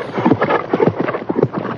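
A horse's hooves clip-clop in a quick, rhythmic run in a dramatic stage scene, fairly close and loud, with no talk over it.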